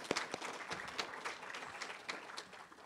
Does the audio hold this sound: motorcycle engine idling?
no